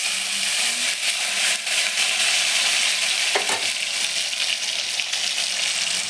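Dried red chillies and garam masala sizzle in hot frying oil, a loud steady crackling hiss with faint stirring clinks, heard alone without talk.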